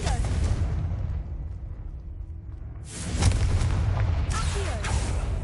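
A Confringo fire spell explodes in the Hogwarts Legacy video game, a deep booming blast that swells loudly partway through and carries a rumbling tail, with a second burst following close behind.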